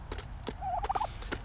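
A turkey on a small farm lets out one quick warbling gobble, close and clear, amid light background knocks and movement.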